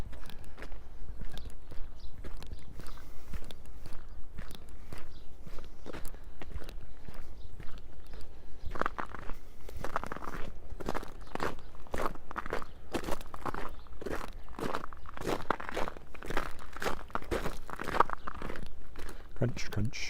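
Footsteps crunch along a creek path on Easter Monday in Regina, a steady rhythmic series of gritty close steps that grows louder partway through, with someone talking at times over them.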